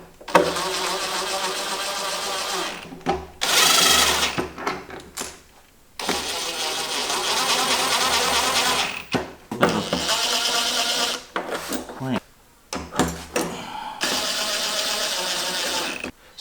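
Bolts are driven into nutserts on a Jeep Wrangler JK snorkel with a ratcheting power tool, in several bursts of whirring and clicking separated by short pauses, close and fairly loud.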